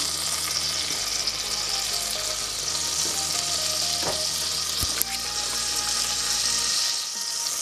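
Butter and flour sizzle together in a pan as a roux starts, a steady hissing fry with a faint low hum beneath and the occasional light scrape or tap of a utensil; close, even, no speech.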